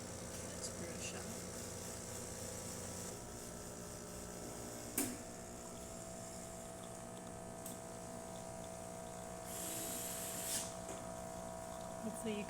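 A Rancilio Silvia Pro espresso machine pulls a shot at about 9 bars, its pump giving a steady low hum and buzz throughout, with a couple of sharp clicks and a brief hissing burst near the end. Someone speaks quietly over it.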